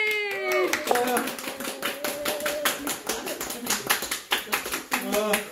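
Hands clapping in a steady rhythm at a family Christmas gathering, a near, continuous run of claps mixed with a voice and an adult speaking over them.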